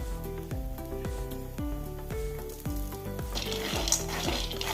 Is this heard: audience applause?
no